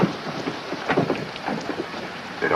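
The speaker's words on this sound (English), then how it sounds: "Even when it rained hard, like now." Hard rain falls in a 1947 noir film with Burt Lancaster, a dense, steady wash of drops and spatter with occasional louder patters and a low rumble underneath, with no voices.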